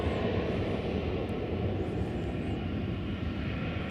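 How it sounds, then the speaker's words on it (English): Airplane taking off from runway 18 Left at Dallas/Fort Worth Airport, a steady, loud broadband engine roar that holds even throughout, with no talk. "Jack B Park, clear for takeoff, 18 left"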